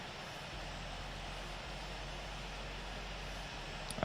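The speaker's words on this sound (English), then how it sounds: "Let's start shutting down the engines here." A steady, low engine drone from an airliner in the Infinite Flight simulator runs evenly throughout, with no talking.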